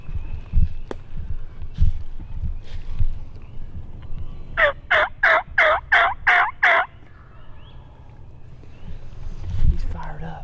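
A wild turkey gobbles outdoors during a Tennessee spring hunt, a loud rapid burst of about seven rattling notes over rustling ambient noise and low rumble.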